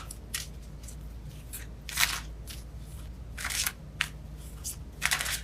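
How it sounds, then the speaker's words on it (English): Tarot cards are shuffled close up, giving crisp, papery riffles and slaps in irregular bursts over a low, steady background hum, with no talking. "All right, I keep shuffling"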